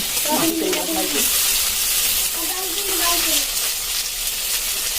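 Steady bright sizzle of fish frying in its own oil fills the clip, with a few soft stirring or clinking sounds near the start and middle.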